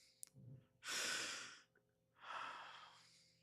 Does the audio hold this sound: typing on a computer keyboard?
no